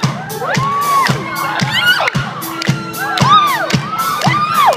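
A concert crowd at a show at the TLA in Philadelphia cheers loudly and continuously, with high whoops and shrieks rising over a dense roar of voices.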